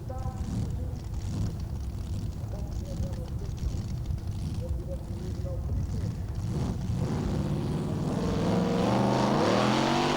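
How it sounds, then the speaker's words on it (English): A tractor-pulling machine powered by a Chrysler 426 Hemi engine drones throughout at a Dutch pulling event in 1994, its engine swelling toward the end under a commentator's voice and wind noise. "Uses a Chrysler engine, the 426 Hemi, and there it is, sitting proud and ready to deliver its hundreds and hundreds of horsepower down through those rear wheels"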